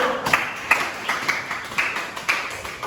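Students in a classroom give a short round of applause for a group, with scattered claps spread across about three seconds, moderately close and fairly soft.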